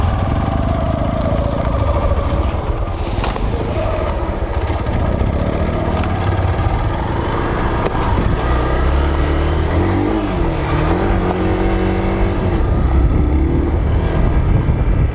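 A TVS Ntorq scooter engine drones steadily while riding an off-road trail, its pitch rising and falling as the throttle changes, loud and continuous with rough wind and terrain noise throughout.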